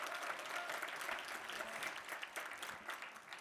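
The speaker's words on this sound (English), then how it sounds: "can we just have another round of applause for that opening?" Audience applause at a forum convening plenary session, dense steady clapping from a large crowd that fills the whole stretch without pause, no voices standing out above it.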